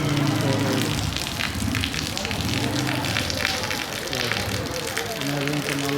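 Torrential rain pours down with water gushing from a drainpipe, a thick continuous roar and splash, while a person talks over it.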